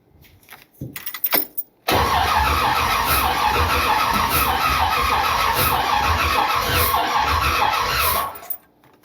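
A 1979 Corvette engine, freshly reinstalled, cranks after a few clicks and rattles, then catches and runs loud and steady close by for about six seconds before shutting off.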